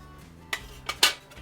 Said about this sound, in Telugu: నేను పచ్చిమిర్చిని కట్ చేస్తున్నాను